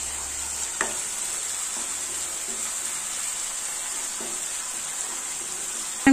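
Spice paste for doi pabda fries over a medium flame, a steady close sizzle with occasional stirring scrapes against the pan, running unbroken throughout without any talking.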